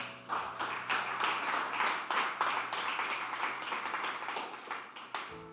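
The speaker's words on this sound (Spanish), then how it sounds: "Dele un aplauso al Señor" Church congregation clapping steadily throughout, a dense wash of many hands applauding together, fairly loud and continuous, with a low steady hum underneath.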